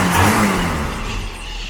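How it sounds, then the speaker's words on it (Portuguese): A restored Jeep engine runs loudly at close range, revving briefly and then settling into a steady, rough idle with a faint clatter. "a grande satisfação é ver o motor voltando a funcionar, né? Fazia tempo que a gente não ouvia esse barulho."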